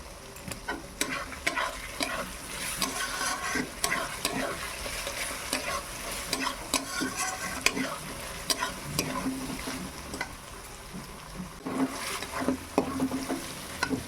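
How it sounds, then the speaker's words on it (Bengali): Tomatoes are added to fried ginger and garlic for chicken ghugni, with a continuous close pan sizzle and repeated stirring scrapes and clicks of a utensil against the pan. "আদা রসুনটা ভাজা হয়ে গেছে, এবার আমি টমেটো দিয়ে দিলাম।"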